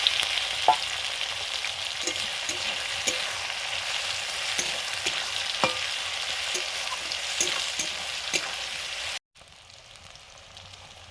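Whole cumin, ginger-garlic paste, green chilies and chopped onion sizzle steadily in hot oil, with a few sharp spatula taps against the pan, before the sound cuts abruptly near the end to a quieter hiss.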